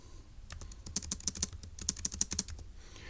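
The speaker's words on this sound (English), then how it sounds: "So let's go type that up." Fingers tap out a short, quick run of keystrokes on a computer keyboard, close and crisp with uneven rhythm, over a quiet background.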